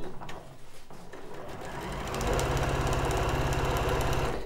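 A sewing machine stitches through quilt layers for a Christmas quilt, starting after a few softer clicks and shuffles, then running as a fast, even, close mechanical rattle for the last couple of seconds.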